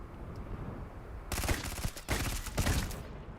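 Turret gunfire pounds a ship in the Starfield video game, a dense burst of rapid shots that begins suddenly after a quiet stretch, breaks off briefly, then resumes and stops near the end, loud and close with no talking.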